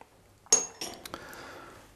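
A metal spoon clinks as ground coffee goes into a roughly 400 ml cezve, giving a few light taps and scrapes nearby, quiet and brief, with no talking.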